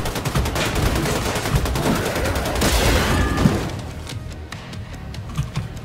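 Rapid automatic gunfire rattles loudly in the video game Wolfenstein 2, a dense burst of shots that thins into scattered single cracks and thuds toward the end.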